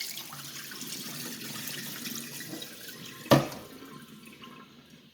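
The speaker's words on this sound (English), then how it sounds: "Wash it really well. I'm going to wash this twice." Jasmine rice is washed in a sink under a running tap: a soft, continuous stream of water with light splashing, then one sharp clunk as something is set down, and the flow continues faintly.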